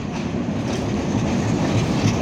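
A train bound for Benapole rumbles past close by at Jessore railway junction, a steady loud roar of wheels and wagons with a faint clatter throughout.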